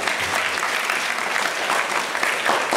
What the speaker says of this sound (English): I'd like to give a round of applause to all the teachers and the school and its curriculum